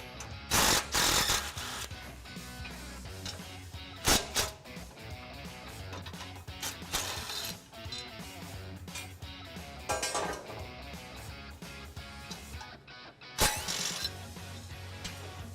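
A 14mm wrench or ratchet works loose the skid plate support bolts on a Lexus GX460, with rapid ratcheting clicks and sharp metallic clanks in irregular bursts, close and fairly loud.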